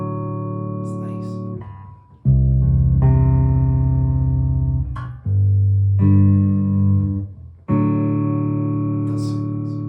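Gear4Music Seattle baritone Bass VI played on the neck pickup through an amp, clean and uncoloured: three loud, sustained low notes or chords, each ringing for about two to three seconds before the next, close and alone without talk.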